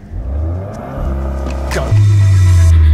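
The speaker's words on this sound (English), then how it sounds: "I've downloaded an app that's going to tell me how fast this will go from 0 to 100 k's or 62 miles an hour" A VW Golf R launches hard from a standstill in a 0-62 mph run, its engine roaring loudly and rising in pitch, with an abrupt gear change near the two-second mark before it pulls on strongly.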